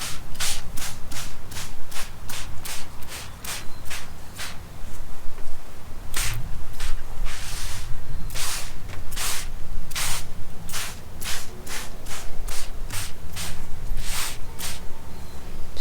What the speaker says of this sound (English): I'm just going to spray especially around the collar where the bugs are going in